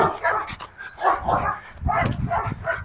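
A Rottweiler in decoy training gives close, repeated barks and whimpering yelps in uneven bursts, loud and alone without talk.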